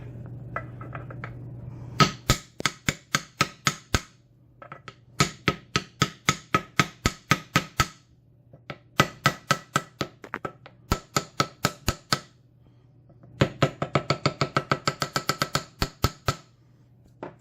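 A screwdriver repeatedly strikes an aluminum lock stand to fold it over, sharp metallic taps in quick bursts of about a dozen hits each, with short pauses between, close and loud over a low hum.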